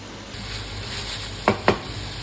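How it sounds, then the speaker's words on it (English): Chopped vegetables for a chicken and sausage jambalaya stirred in a hot one-pot, with a steady close hiss of sizzling and two sharp utensil knocks against the pan near the end. "toss all those chopped veggies into the pan and stir them well until they become soft and"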